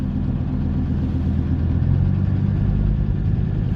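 A Mercedes 190 turbo diesel, long abandoned, runs with a loud, steady low diesel clatter and rumble close by, with the throttle not returning properly, holding an even, unbroken drone throughout.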